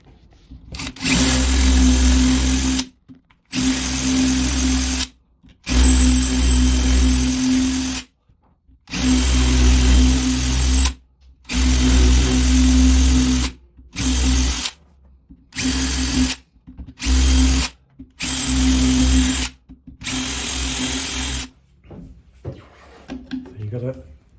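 Power drill boring out the rivets of a broken window handle, loud whining bursts of a few seconds each separated by short pauses, repeated about a dozen times close up.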